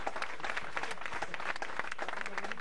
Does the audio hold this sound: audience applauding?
yes